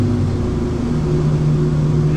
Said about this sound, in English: And cruise around in 5th gear.